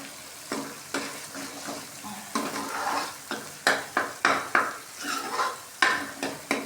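Onion and tomato gravy sizzling in a pan while a spoon stirs it, with repeated scraping strokes against the metal and a steady frying hiss.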